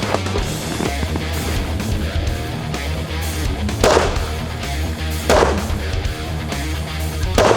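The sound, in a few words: gunshots at a shooting range target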